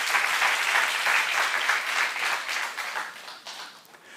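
A church congregation at a small-group leaders' retreat training session breaks into dense, steady applause that holds for several seconds and then gradually thins and fades out.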